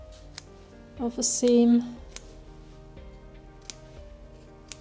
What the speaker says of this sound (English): So I will make a couple of snips in the curved parts